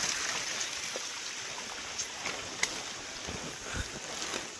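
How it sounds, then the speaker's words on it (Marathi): A waterfall near Harishchandragad gives a steady, faint broadband rush of falling water, with a few light knocks and taps over the constant roar. "हो वाटना डायरेक्ट धबधबा आहे"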